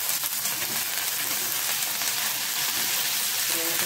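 Green chillies sizzle in a hot pan (kadai) on a stove for tamarind rice, a continuous close crackling hiss with light stirring scrapes.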